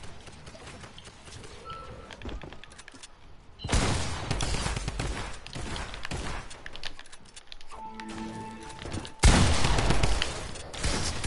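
Rapid bursts of video game gunfire crack out in loud, dense volleys, with a quieter stretch and a few sustained electronic tones between them before another heavy burst near the end.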